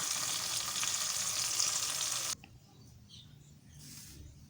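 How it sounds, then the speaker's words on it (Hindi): Chopped onions fry loudly in a hot pan for an Indian qeema matar dish, cooking to a light brown. A dense, steady sizzle cuts off abruptly partway through, leaving quiet kitchen sounds. "जितनी देर में हमारे प्याज फ्राई होते हैं"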